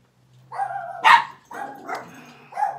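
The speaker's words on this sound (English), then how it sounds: "I gotta let my dog out" A dog barks and yips several times indoors, close and fairly loud, in short bursts with pauses and no talk.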